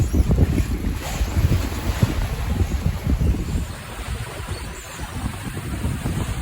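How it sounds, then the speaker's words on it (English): Wind roars across the microphone as a sailboat crosses from Bequia to Canouan in the Grenadines, with water sloshing and churning steadily against the hull where wind opposes the waves. "we got some wind against waves up here, but don't expect it to be too choppy"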